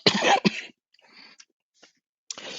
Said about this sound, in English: I'm just going to have a cough